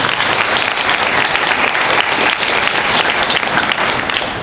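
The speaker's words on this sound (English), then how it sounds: "Let's have a round of applause for them." Steady, dense applause from a debate audience at the Madison Cup final round at JMU, loud and continuous across the whole stretch with no voices breaking through.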